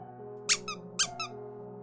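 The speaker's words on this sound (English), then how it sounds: "Sequoia, from the bathroom, squeaked a duck." A rubber duck squeaks in a bathroom, two pairs of short, bright squeaks in quick succession, close and clear over a low steady hum.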